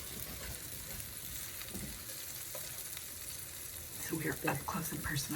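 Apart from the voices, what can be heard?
zucchini fritters frying in a pan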